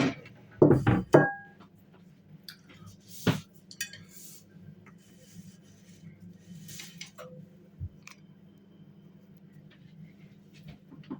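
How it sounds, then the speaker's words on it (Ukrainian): A few sharp clinks and knocks of a plate being picked up and set down, then quieter handling sounds over a low background hum. "Для цього беру чисту тарілку."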